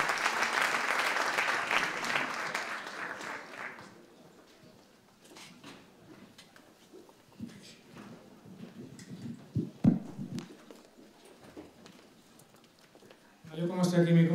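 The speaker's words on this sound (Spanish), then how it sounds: "yo creo que se merece un aplauso a los tres puntos de nuestra ronda" Applause from a conference audience rolls for about four seconds, then drops away to quiet room noise, scattered shuffles and faint voices, with a burst of speech at the end.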